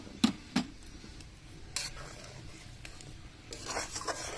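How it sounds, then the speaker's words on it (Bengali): Sugar added to radish payesh and stirred in a pot with a metal spoon, a few sharp clinks against the pot, then soft scraping and rubbing, close and fairly quiet. "এবার দিয়ে দিচ্ছি পরিমাণ মতো চিনি।"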